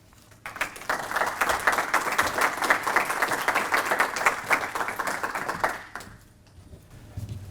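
An audience at a bookstore talk claps to welcome the speaker, a dense, steady round of applause lasting about five seconds before it dies away to a quiet room.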